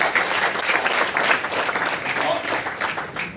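A crowd applauding steadily at a waste management program on World Environment Day, dense clapping from many hands filling the room throughout, fairly loud with no pause.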